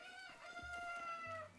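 Chickens (cuccos) in the video game Breath of the Wild cluck and squawk in short bursts, with rising and falling calls over a steady game background.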